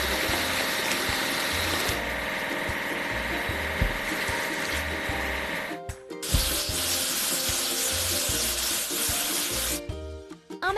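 Water sprays and splashes steadily over a toy excavator as it is washed, a continuous rushing wash broken by two brief pauses, with a faint motor hum beneath.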